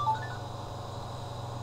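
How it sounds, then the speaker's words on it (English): A phone text message notification chimes briefly and faintly at the start, a short tonal alert over a steady low electrical hum with no one talking. "And someone's just sent me a text message."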